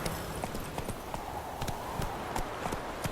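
Hooves of Roach, the horse in The Witcher 3, in a steady galloping clip-clop rhythm, moderately close, with faint game ambience beneath.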